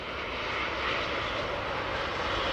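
An aircraft landing at Heathrow, heard close, makes a loud, steady, broad engine roar that holds level throughout with no voices.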